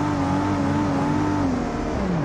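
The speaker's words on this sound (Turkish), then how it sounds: "İkisi de gazlıyor yani. Deli gibi gazlıyor ikisi yani." A car engine in the BeamNG.drive driving game, with a BMW E30 and a Mercedes mentioned, revs hard and holds a loud, sustained drone whose pitch rises slightly and then sags, with no talk over it.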